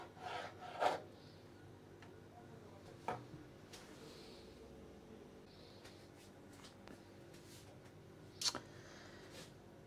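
A serrated knife slices through a tomato in a handful of brief, quiet rasping strokes separated by long near-silent pauses.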